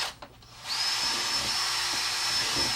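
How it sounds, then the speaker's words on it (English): Power drill boring air holes around the top of a plastic worm bin, a steady high whine that starts after a brief pause and holds loud and close. "So you need a drill and a drill bit."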